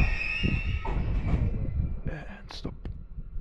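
A freight train slows toward a stop in the Moroccan desert mountains, with steady rumbling rail noise, a high metallic whine and brief brake squeals near the end, heard up close from aboard.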